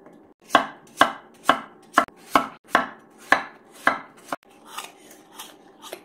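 Vegetables are cut into squares with a knife, loud close thuds on a board landing roughly every half second, then a run of softer, quicker cuts toward the end.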